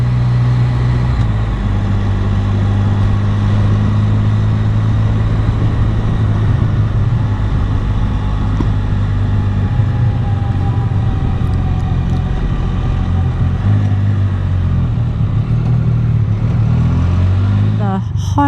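A Can-Am Spyder three-wheel motorcycle rides a Highland road through the Cairngorms, its engine droning steadily and close throughout, with someone talking over the constant motor hum and road noise.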